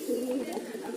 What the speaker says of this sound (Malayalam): ഈ പ്രാവ് ഭയങ്കര ഭംഗിയുള്ള പ്രാവാണ്.